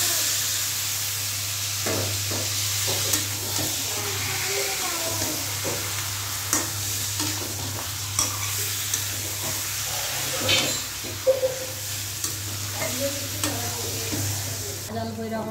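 Meat curry and bitter gourd frying on a stove, heard as a continuous sizzle with scattered stirring clinks and scrapes and a low steady hum beneath.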